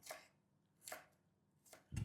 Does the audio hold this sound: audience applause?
no